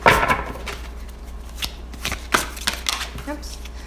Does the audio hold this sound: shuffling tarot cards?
yes